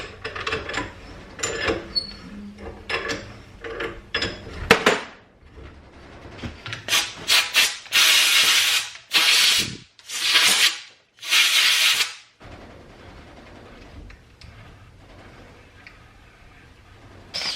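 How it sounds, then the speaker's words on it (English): A wire wheel scrubs a steering bolt clean while steering ball joints are being replaced, loud harsh grinding bursts coming in several separated passes after some lighter clicks and handling noises. "I take the bolt out because I just give it a wire wheel and clean it up."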